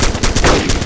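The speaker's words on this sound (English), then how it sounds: "But are you shooting me?" Gunfire in the Arma 2 military video game, a short, loud burst of rapid automatic shots lasting about a second.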